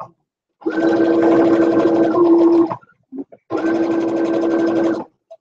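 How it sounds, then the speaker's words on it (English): A sewing machine stitches the bottom seam of a holiday pillowcase in two steady, loud, close runs of a couple of seconds each, separated by a short pause with small handling clicks. "let's sew the bottom up"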